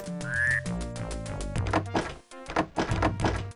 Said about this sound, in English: Nope, the key doesn't open that one either.